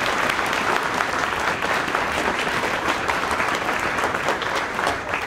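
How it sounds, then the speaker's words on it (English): Steady, dense audience applause at a 2022 elementary school spring concert, a broad wash of clapping lasting throughout without talk. "Let's give them all a round of applause."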